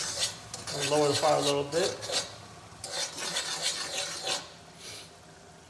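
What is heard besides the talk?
stirring dry crawfish seasoning ingredients in a pot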